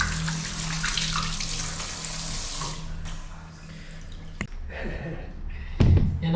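Tap water runs steadily into a sink while something is being washed, loud and splashy at first, then thinner with clatters and a clunk near the end.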